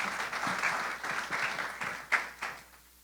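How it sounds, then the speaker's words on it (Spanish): A church congregation applauds during a sermon, a soft, fairly distant round of clapping with a few louder bursts near the end. "¿Cuántos le dan un aplauso a Dios por eso?"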